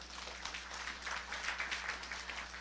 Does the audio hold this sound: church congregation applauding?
yes